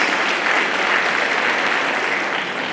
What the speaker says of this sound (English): I think they deserve a louder round of applause.